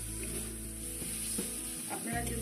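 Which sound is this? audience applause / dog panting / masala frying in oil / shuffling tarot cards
masala frying in oil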